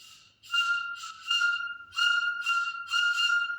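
A small red wooden sopilka, a Ukrainian folk flute, plays short, bright, breathy notes in a simple repeating pattern, each tone held briefly with gaps between phrases.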